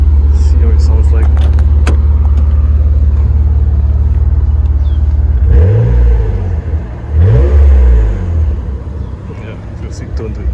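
A 1992 Mitsubishi GTO twin turbo engine idles with a steady low drone, then is revved hard twice in quick succession. Each rev is a loud, close, rising and falling roar that settles back to idle.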